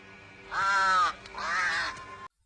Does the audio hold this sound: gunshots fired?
no